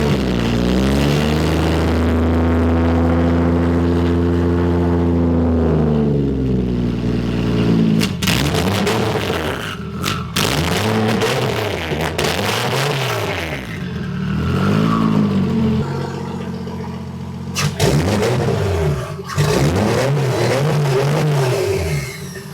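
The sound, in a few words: swapped car engine idling and revving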